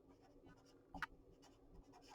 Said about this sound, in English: So let me write that down.